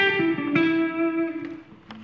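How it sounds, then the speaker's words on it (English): An electric guitar played through a Hardwire reverb pedal, a few sustained notes ringing out with a smooth, roomy reverb tail that lingers between each fresh pick. "Hardwire has a reverb pedal, does exactly what you would think, just adds the spaciousness of like a studio reverb."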